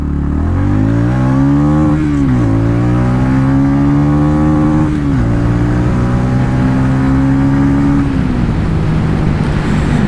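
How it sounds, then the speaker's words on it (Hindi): A TVS Ronin 225 motorcycle engine and exhaust rev loudly and up close, the engine pitch climbing and dropping through several gear changes as the bike accelerates under steady road and wind noise. "the exhaust note of this motorcycle is absolutely amazing यार"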